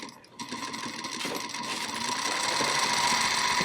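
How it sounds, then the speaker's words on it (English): A Singer Featherweight sewing machine runs fast with an overly tight belt, a steady close mechanical whir and rapid ticking that builds slightly in loudness after a brief quiet start, with no talking. "it's still pretty fast, I gotta say. Sounds nice."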